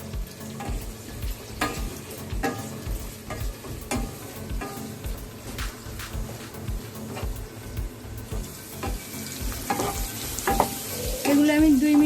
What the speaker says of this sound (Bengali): এবার এইগুলো আমি 2 মিনিটের মতো একটু ভাজা ভাজা করে নেব।